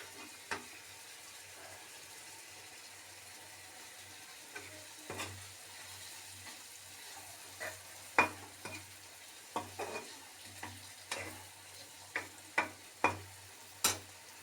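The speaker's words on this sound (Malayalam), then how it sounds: "നമുക്കൊന്ന് ഇളക്കി കൊടുക്കാം." Rambutan pickle being stirred in a pan, a quiet background hum broken by scattered scrapes and clinks of the spoon, sparse at first and then more frequent toward the end, with no talking.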